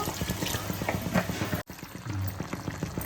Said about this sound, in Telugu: కొద్దిగా వాటర్ అయితే పోస్తున్నాను అడుగు అంటకుండా